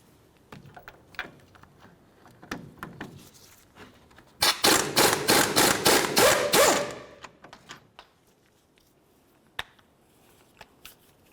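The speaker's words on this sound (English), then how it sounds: "Remove all 3 of those 21mm headed bolts." Three 21mm bolts are taken out of the front wheel bearing knuckle of a 2004-2015 Nissan Titan. A loud, rapid rattling burst lasts about two and a half seconds, surrounded by sparse clicks and clanks of tools.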